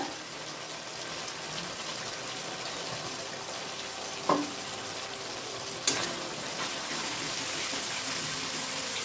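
Cumin-ginger paste and turmeric sauté in a pan, a faint, even sizzling hiss that runs throughout, broken by two brief sharp clinks of a utensil.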